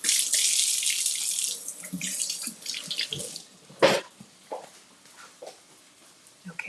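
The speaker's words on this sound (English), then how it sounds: "So I'm going to wash my hands, wipe down, and then wash my hands again." Water runs hard from a kitchen tap as hands are washed during cooking, then the flow is cut and is followed by scattered clatters, drips and soft handling noises.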